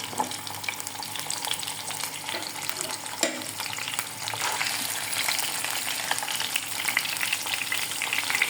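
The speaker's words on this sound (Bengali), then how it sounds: "এই রুই মাছ এক পিস করে নেব এবং এখানে প্রথমে আমি ভেজে দেবো আমি চুলার আঁচটা বাড়িয়ে দিচ্ছি" A piece of rohu fish frying on high flame, a loud, dense, continuous sizzle with a brief clatter near the middle, close by and with no talk.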